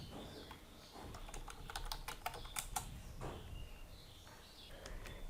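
Quick, faint keystrokes tap on a computer keyboard in a short burst, a few scattered clicks before and after, with a quiet room hum underneath.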